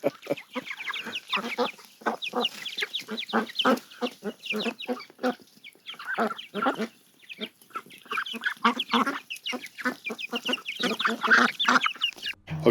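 A large flock of hungry chickens and ducks clucks and squawks loudly and continuously, many overlapping calls packed closely together with no pauses.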